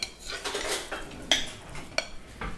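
Spoons and dishes clatter at a home table during a casserole meal: a few sharp metallic clinks and knocks stand out over soft scraping and stirring, close and fairly loud, with no talk.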